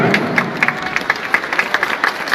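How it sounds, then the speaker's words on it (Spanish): Audience applause welcoming the Sagrada Familia children's choir at a Christmas carol contest in a cathedral, a lively run of distinct claps over a softer crowd wash, fairly close. "Recibámonos con un aplauso bien fuerte al coro de niños Sagrada Familia."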